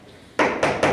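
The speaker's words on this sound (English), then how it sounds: "From offstage comes sound of knocking on the door." Three quick knocks on an offstage door during a staged theatre reading, close and firm, evenly spaced within a second after a brief quiet moment.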